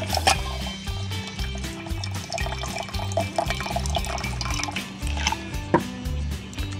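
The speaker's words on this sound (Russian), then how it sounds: "Далее я беру 3, 4, 5 частей холодной воды." Cold water poured into homemade absinthe made to an 1855 Pontarlier recipe, a steady liquid pour with small splashes and drips, close and fairly clear over a low background hum, with no talking.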